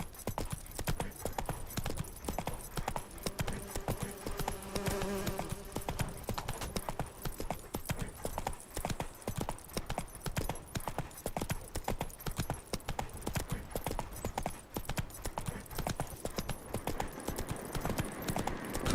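Roach, the horse in The Witcher 3, gallops in a steady, close clip-clop of hooves that runs throughout, with an occasional faint whinny over game ambience.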